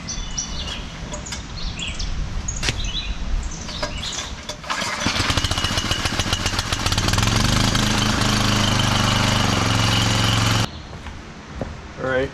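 A rebuilt two-stage Davey Firefighter pump engine for irrigation is pulled over, catches and runs loud and steady at close range for several seconds, then cuts off abruptly, with birds chirping in the background beforehand.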